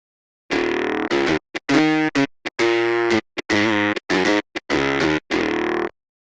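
A harsh, buzzy distorted guitar-style synth lead made in Serum plays a series of short, choppy bursts with gaps between them, loud and upfront with no voices.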